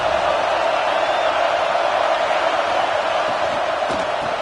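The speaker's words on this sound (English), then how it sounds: "Listen to the crowd energy here in the early going." Crowd noise fills a college football stadium, a dense continuous roar of many voices at steady loudness with no distinct cheers standing out.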